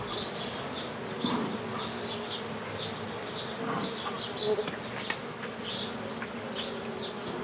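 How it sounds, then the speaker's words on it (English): A dense swarm of bees from a beehive opened after smoking in Iran, buzzing steadily at close range with individual bees droning past, plus a few faint bird chirps in the background. "The smoke calms the bees, allowing him to open the hive without getting stung."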